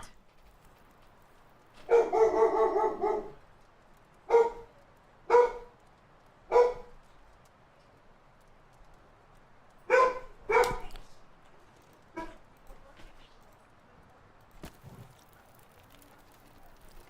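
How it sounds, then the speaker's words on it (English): A dog in The Long Dark survival game barks in a string of sharp, separate woofs spread across the span, moderately close against a quiet background with no talking. "I'm gonna find out what the dog was on about."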